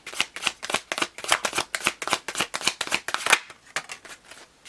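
Tarot cards riffled and shuffled up close, a fast run of crisp papery slaps and flutters in steady bursts that fade out at the end, with no talking.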